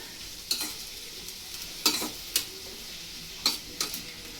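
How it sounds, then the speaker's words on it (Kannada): Masala spices dry-roasting in a pan for chicken biryani, a soft background crackle broken by five or six sharp scraping clicks of a spatula stirring against the pan, close by with no talking. "ಅದಕ್ಕೋಸ್ಕರ ಪ್ರತಿ ಸಲ ಈ ರೀತಿ ಮಸಾಲಾನ ಹುರಿದ್ಬಿಟ್ಟೆ ಬಿರಿಯಾನಿಗೆ ಹಾಕ್ಕೊಳ್ಳೋದು"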